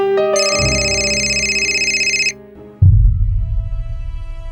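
An electronic phone ringtone plays a sustained melodic tone for about two seconds, stops briefly, then a lower rumbling tone follows.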